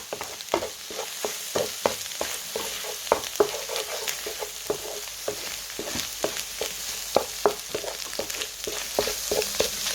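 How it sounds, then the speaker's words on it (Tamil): Egg sautéing in a pan for idiyappam kothu, a steady frying hiss with frequent sharp scraping stir strokes throughout, close and fairly loud, no talking. "முட்டை கொஞ்சம் முட்டை வதங்கட்டும்"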